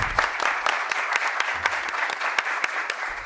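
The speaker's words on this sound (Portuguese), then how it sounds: "eu queria pedir para vocês uma salva de palmas a esses times que estão aí fazendo com que a gente consiga estar" An audience applauding at an ocean-themed panel event, steady clapping with sharp individual claps standing out, sustained throughout.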